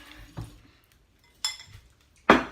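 A spoon picked from among kitchen dishes, heard as a few separate clinks, the last one the loudest, with quiet pauses between them.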